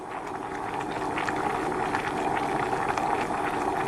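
Scallops steaming in a covered hotpot bubble and foam with a steady, dense, loud hiss and simmer that holds evenly throughout, with no voices.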